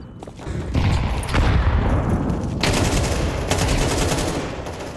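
Counter-Strike grenade going off on the Inferno map amid loud game noise, with a sustained roar of bursts and rumbling blasts that swell and recur across the whole stretch.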